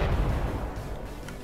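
A loud gunshot sound replaces the bow in a Minecraft resource pack, a single heavy booming blast that fades out over about a second.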